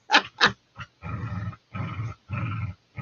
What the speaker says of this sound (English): my dogs, you hear growling, that's my doggies